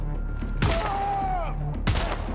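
Marksman rifle shots in Wolfenstein: The New Order on Gibraltar Bridge, two sharp, loud reports about a second apart over a steady low rumble.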